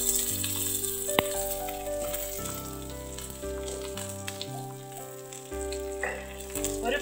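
Ginger, curry leaves and green chilli frying in a tablespoon of oil for Kerala-style curd vada, a steady close sizzle running throughout with a sharp clatter early on and tonal music playing over it.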